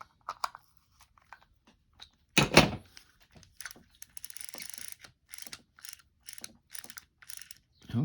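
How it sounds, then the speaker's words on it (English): Sougayilang TSSD 3000L spinning fishing reel being cranked after service and lubrication, its gears giving dry ratcheting, grinding bursts in uneven spurts, very close and alone. "just to see if I can quiet those gears down just a little bit"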